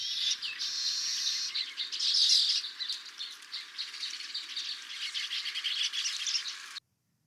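Several male baya weavers calling together at a nesting tree: a dense, continuous chorus of high, buzzy chirps and twitters, loud and close, ending abruptly.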